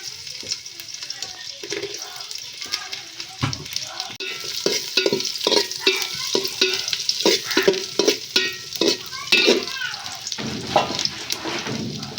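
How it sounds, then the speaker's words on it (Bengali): Almonds and cashews frying in ghee, a loud busy crackle with rapid, repeated stirring scrapes and clatters close by, and a brief higher squeal toward the end. "এখন কাঠবাদাম আর কাজু বাদাম ঘি দিয়ে ভেজে নেওয়া হচ্ছে"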